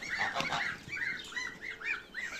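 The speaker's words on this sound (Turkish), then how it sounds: "Gazımız, civcivimiz, her şeyimiz var." Geese honk repeatedly in a series of about six nasal calls, moderately quiet, with a short flurry of overlapping honks at the start.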